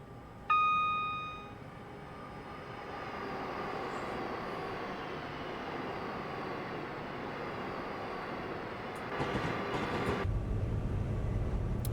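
Cab interior of a train in the video game Train Simulator 2021, on a run from Farringdon to Birmingham: a short tonal chime, then a steady low rumble of the moving train that grows slightly louder near the end.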